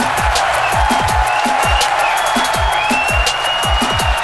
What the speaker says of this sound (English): You can hear our crowd going wild.